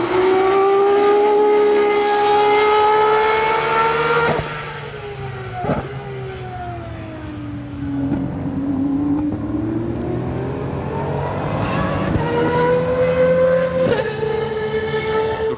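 Aston Martin Valkyrie sliding around a race circuit, its engine holding a loud, sustained high-pitched tone that dips and climbs as the car drifts through the corner, with sharp gear-change breaks along the way.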